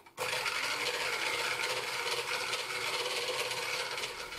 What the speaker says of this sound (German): Und das schlagen wir jetzt richtig schön auf.